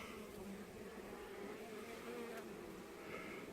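Honeybees hum in a soft, continuous drone while a hive is opened and split, their buzzing close but faint and unbroken.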